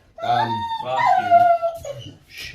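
A dog lets out a drawn-out, wavering howl with whimpering, whining tones, close and fairly loud, ending in a short huff.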